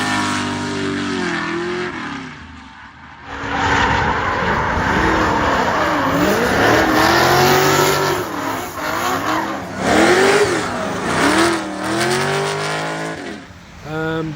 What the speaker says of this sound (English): I will show a couple of clips of the car and him drifting